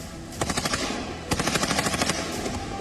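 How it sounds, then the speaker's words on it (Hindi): Machine gun fire during the Russia–Ukraine war comes in two rapid rattling bursts, each a quick string of loud cracks separated by a short pause. "खार्किव से लेकर चर्नोहीव तक लगातार गोलीबारी हो रही है"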